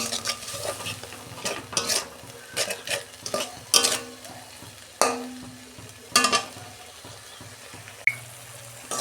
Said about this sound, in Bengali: অল্প জল দিয়ে আমি মশলাটা কষতে নেব